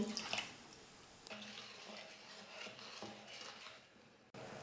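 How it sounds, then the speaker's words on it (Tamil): Water pours steadily into a pan of sugar for several seconds, a soft splashing trickle heard up close with no talking. "1/4 கப் தண்ணி சேர்த்துக்கிறேன்."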